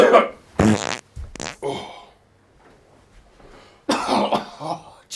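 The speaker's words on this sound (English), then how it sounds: "Yeah, I was just coughing." Coughing from a comedic public service announcement: a few harsh, loud bursts in the first second and a half, a quiet lull, then a longer rough noisy stretch toward the end, close to the mic.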